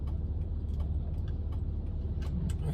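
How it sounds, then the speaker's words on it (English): A car passes along a street in the Philippines, a steady low road rumble with faint ticking and rattling on top, heard alone without talk. "You see that car just going by?"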